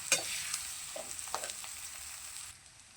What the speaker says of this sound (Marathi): तर त्याच्यामध्ये आपण ही भाजी टाकून घेऊया. आणि मिक्स करून घेऊ ही भाजी.